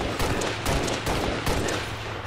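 Rapid automatic gunfire rattles in Halo Reach, a loud, close burst of evenly spaced shots with a few heavier cracks, continuous throughout with no talking.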